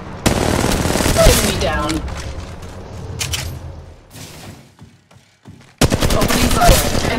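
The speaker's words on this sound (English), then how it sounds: "Opening fire." Rapid automatic gunfire in the mobile shooter Apex Legends Mobile, a loud burst of shots that tapers off and then resumes hard after a short lull, with a character voice speaking briefly.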